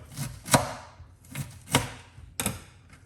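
Fresh ginger is being chopped with a knife on a cutting board, giving three distinct sharp chops at a steady pace with softer knife sounds between them, close and fairly loud, with no talking.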